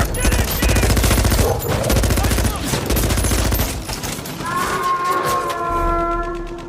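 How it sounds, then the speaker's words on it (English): Automatic weapons fire in a giant wolf attack scene from the action film Rampage (2018), with a helicopter involved: dense, continuous rapid bursts of gunshots, loud and close, giving way to a roaring creature-like sound near the end. "Open fire!"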